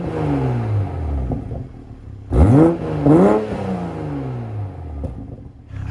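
A Toyota GR Supra in normal mode with its exhaust valve held open, idling with a low burble and then blipped twice in quick succession into sharp rising revs that fall back, close and loud.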